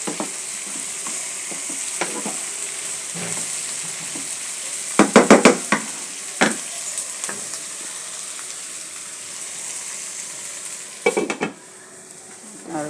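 Bitter gourd leaves sizzle steadily in a frying pan, a constant hiss broken by a few sharp scraping clatters of a utensil against the pan, with no one speaking.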